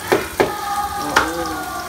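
Onion and garlic cooking in a pan during a home Christmas meal, a few sharp spoon scrapes or taps over a quiet sizzling hiss, close, with no voices.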